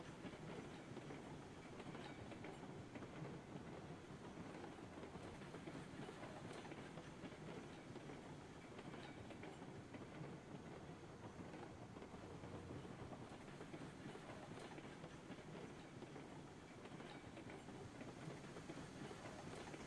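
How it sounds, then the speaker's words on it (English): Train running on rails in the Railroads Online video game, a faint, continuous rolling rumble and rattle of wheels that holds steady throughout with no talking. "I'm about to collide with Lamarch's train."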